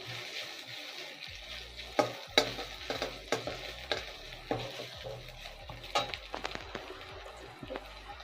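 Grated ginger fries in a pan for a vegetarian pea dal, with a soft continuous sizzle under repeated clinks and scrapes of a spoon stirring against the metal, close up.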